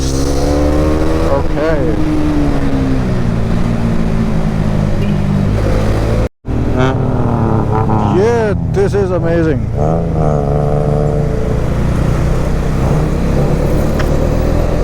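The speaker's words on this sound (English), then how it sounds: "They sound like super bikes. They're tuk-tuk here." Tuk-tuks revving hard like superbikes at a red light in a Thai city street: loud, continuous engine roar with rising revs and traffic noise, while people talk over it.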